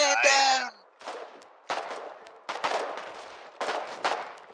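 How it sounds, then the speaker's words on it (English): Repeated bursts of video game battle gunfire crack out in irregular clusters, fairly loud and spaced about a second apart, after a brief burst of shouting. "Gunfire raging throughout this engagement."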